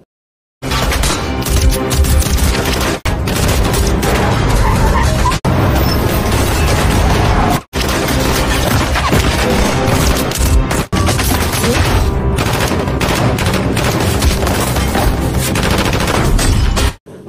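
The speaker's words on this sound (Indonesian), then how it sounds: "Ketua Pak dan para pengawal presiden berusaha payah melawan tembakan dari pasukan sniper." Sniper fire in an action film, a dense barrage of gunshots and bursts against bodyguards protecting a president, loud and nearly continuous with brief gaps, no talk.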